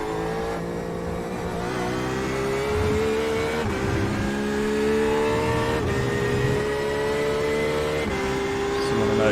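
A race car engine in a Le Mans racing video game drones and revs steadily with rising and falling gear pitches, while someone talks over it.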